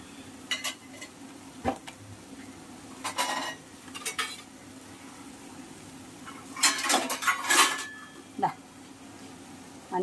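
Turmeric powder goes into onions in a pan while cooking chena poov thoran, elephant foot yam flower stir-fry; a spoon scrapes and clinks against the pan in short bursts, with a faint sizzle between.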